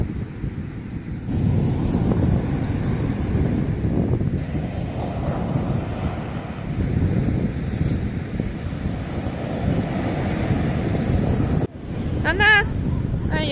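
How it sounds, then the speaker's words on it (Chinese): Rough sea surf and gusting wind on a beach at Meizhou Island, Putian, Fujian, forming a steady close roar that fills the whole stretch, with a brief higher sound near the end. "波涛汹涌的大海"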